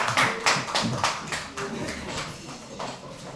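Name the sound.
audience applause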